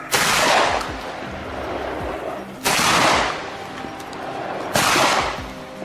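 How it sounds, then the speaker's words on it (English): Three sharp gunshot blasts fired at a wild boar during a hunt, each a loud close crack with a rolling decay, spaced about two seconds apart. "The precise burst of bullets struck the wild boar's weak point, bringing it down on the spot."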